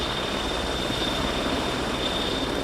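A Portuguese Merlin military helicopter hovers steadily overhead at an air show, a constant loud rotor and engine rumble with a thin high whine, no other sounds.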